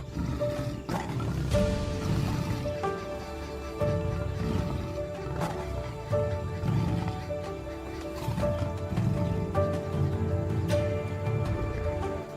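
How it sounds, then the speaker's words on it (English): A lion in the Ngorongoro crater at sunset roars in deep, repeated bursts that rise and fall in a steady rhythm. The loud roars echo off the crater's cliffs, with no voices present. "It is not just the sound of territory, but a declaration of supreme authority from the lion, the apex predator of the Ngorongoro crater."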